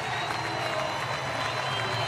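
A home crowd at Hayward Field applauds and cheers during a track race, a steady, dense wash of clapping and crowd noise with a commentator talking over it.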